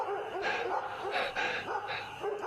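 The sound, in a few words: dogs barking at night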